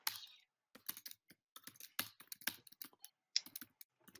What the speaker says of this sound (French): Qui c'est qui tape comme un bourrin sur son clavier là?